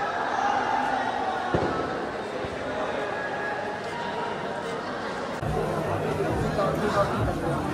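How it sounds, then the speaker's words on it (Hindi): A dense crowd of devotees chatters at the Dongargarh hill temple on Panchami day, a continuous close murmur of many voices with occasional knocks and thumps. "यहाँ का काफी भीड़ है"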